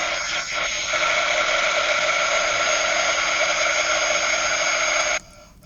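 A heat gun blows with a loud, steady whirring roar and a high tonal whine for about five seconds, then cuts off abruptly.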